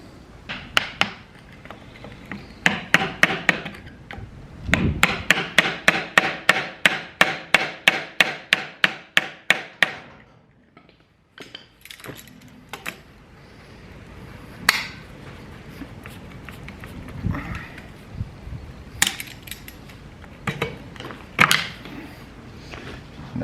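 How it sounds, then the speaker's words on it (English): A quick, regular run of sharp metal-on-metal taps as a hammer drives a flat screwdriver to remove an old seal from a Howard 80 rotovator, then a pause and scattered, irregular knocks and tapping. "flat screwdriver in at an angle, avoiding scratching the surface, and hammer in."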